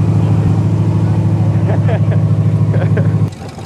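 Engine of a CJ5 Jeep or Farmall H tractor running just after a cold start, a loud, close, steady low rumble that suddenly drops off near the end, with faint voices mixed in.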